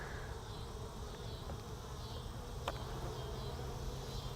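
A hive of agitated bees buzzing steadily during an inspection after being popped with a rubber band, a dense, continuous drone with one sharp snap partway through.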